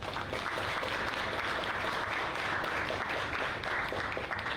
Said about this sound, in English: So let's give a round of applause for all our judges.